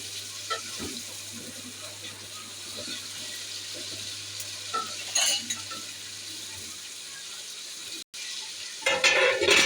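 Chicken tikka Shinwari karahi frying in a pan and stirred with a spoon now and then, a soft continuous sizzle with occasional scraping and clinks, faint and close.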